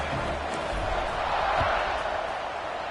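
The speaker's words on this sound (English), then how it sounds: "this crowd is buzzing after that last score" A stadium crowd in an NCAA football video game keeps up a steady, dense buzz of murmur and cheering, broad and continuous with no single voice standing out.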